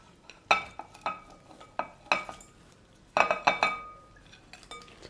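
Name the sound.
mixing prawns in marinade in bowl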